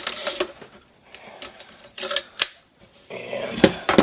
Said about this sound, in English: alright, I lock the bolt open